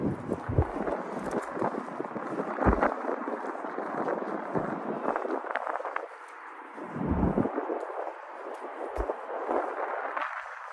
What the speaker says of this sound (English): It's a little windy, so I hope you can still hear me okay.